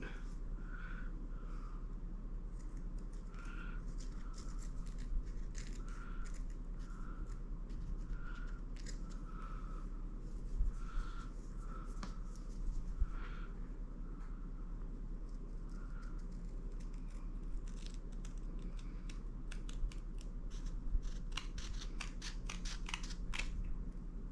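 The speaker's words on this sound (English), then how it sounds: "we can cut it using that painter's tape as a backing" Scissors snip through fabric backed with painter's tape in a steady series of quiet, evenly spaced cuts, heard close against a faint background hum.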